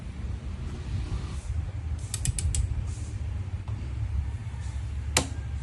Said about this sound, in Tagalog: Yun, lumagutok na.